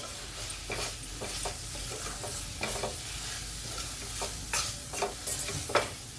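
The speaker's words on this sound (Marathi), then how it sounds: "कढीपत्ता टाकू आपण हे सगळं चांगलं परतून घेऊ" Curry leaves, tomatoes and spice masala are sautéed in oil for mixed dal, a soft steady sizzle with repeated scraping stirs of a spoon in the pan, close and fairly quiet with no talking.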